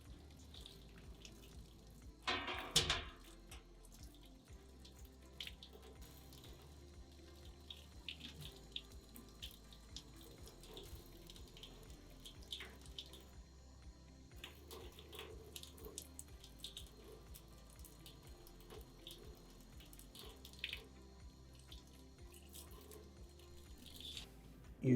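Parts of a Taylor 341 machine are washed by hand in a sink, with a faint running tap, splashing and clinks from the parts heard fairly far away and quiet, including one louder burst of water early on.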